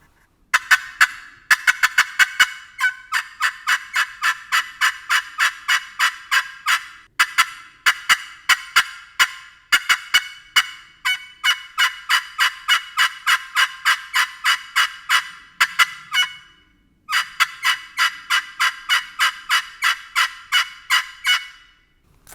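Turkey call worked by hand to imitate a hen's excited yelping: fast, loud, sharp runs of raspy yelps in several bursts with short pauses, close and clear with no talking.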